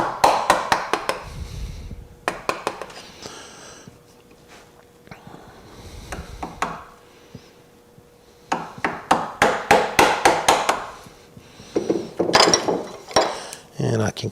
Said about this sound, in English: I'm just using my flat bench chisel here